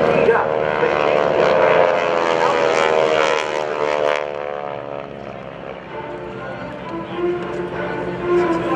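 GEICO Skytypers propeller airplanes fly overhead at the 2011 Rhode Island Air National Guard open house airshow, their loud droning engines fading somewhat as they pass, with an announcer talking throughout.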